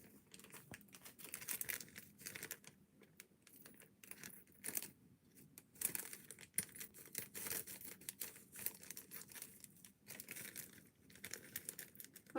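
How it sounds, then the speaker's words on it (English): Thin plastic bag being handled and cut, giving a steady run of close crinkling and rustling with small snips and crackles throughout, no voices. "I'll just like cut a piece from it."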